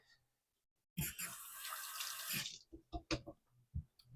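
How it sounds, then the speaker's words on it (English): A kitchen tap runs for hands washing in a sink: a close, steady rush of water for about a second and a half, followed by scattered drips, splashes and hand movements. "let me wash my hands real quick"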